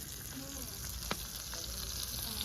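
Garlic and curry leaves are frying in a pan, giving a steady, fairly quiet sizzle. A single faint tap is heard partway through.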